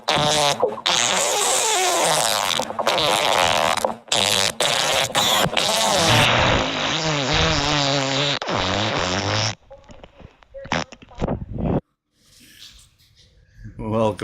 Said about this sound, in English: He was trying to turn the recorder off, but it snuck an extra fart.